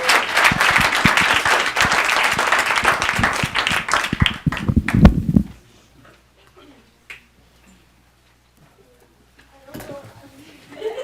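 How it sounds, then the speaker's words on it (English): A school board meeting audience claps for a group after a season, loud sustained applause that cuts off abruptly about halfway, leaving near silence with faint rustles and a brief murmur. "let's give them a round of applause"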